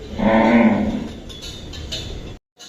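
A cow on a cattle farm selling animals for Qurbani lets out one loud, close, drawn-out moo, then the rest is quieter farm ambience before a sudden cut to silence.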